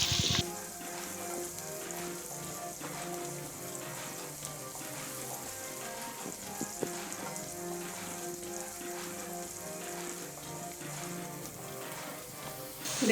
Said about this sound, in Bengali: কাঁচামরিচ আর পেঁয়াজ আমি একসাথে হালকা ব্রাউন কালার করে ভেজে নেব।